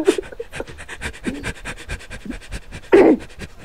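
A dog pants in quick, steady breaths close by, with a brief louder burst near the end, during a Left 4 Dead 2 game session.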